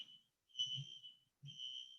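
Office fire alarm sounding in repeated high-pitched electronic bursts, each tone held for about half a second to a second with short gaps between, moderately loud, with low rumbling background noise underneath and no talk.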